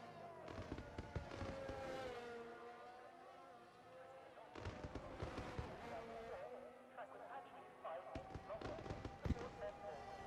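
Fireworks pop and crackle in a racing video game at the Bahrain Grand Prix finish, coming as repeated sharp bursts at a moderate distance beneath ongoing commentary.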